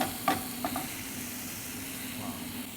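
Soft shell crab sizzles in a wok as it is stir-fried with dry ingredients, a steady frying hiss broken by a few sharp clicks of the utensil tossing the food.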